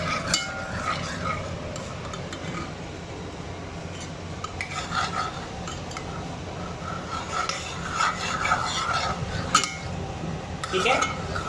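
Spices being stirred into a sauce in a pan for buffalo chicken wings: irregular metallic scrapes and clinks of a utensil against the pan over a steady background hiss, with faint voice in places.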